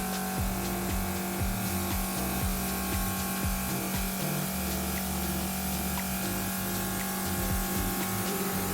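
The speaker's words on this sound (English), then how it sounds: "Now we're gonna start with the airbrush and we're gonna be on the second setting." TEMPTU Air Pro makeup airbrush running on its second setting produces a steady, faint compressor hum with a constant hiss of spraying, unchanging from start to finish.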